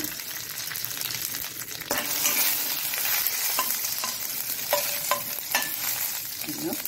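Mustard seeds and two whole dried chilies crackle in hot oil with a sizzling hiss, scattered sharp pops and spatters, and a few stirring scrapes in the pan.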